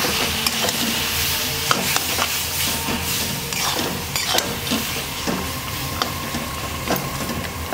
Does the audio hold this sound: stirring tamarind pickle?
yes